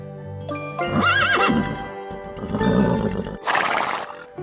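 A lively Arab-Hanoverian horse at a stable whinnies loudly and close, a rising, wavering neigh that repeats in shorter bursts, with a brief clatter of hooves and a sharp snort near the end.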